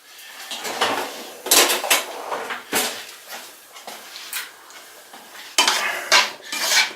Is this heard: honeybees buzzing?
no